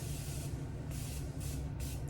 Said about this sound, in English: I'm gonna take some setting spray and